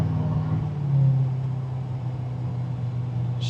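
An LS3-swapped square body truck on 26-inch wheels on a test drive, its V8 a steady, heavy low rumble that holds even and loud throughout, heard from inside the cab.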